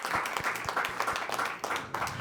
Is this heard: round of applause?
yes